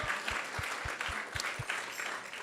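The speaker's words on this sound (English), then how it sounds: "So let's give her a big round of applause." Applause from a congregation at a Krishna Katha gathering, with a fairly soft, continuous patter of many hands and a few sharper claps in a short burst.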